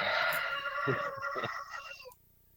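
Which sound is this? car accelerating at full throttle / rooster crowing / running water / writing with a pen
rooster crowing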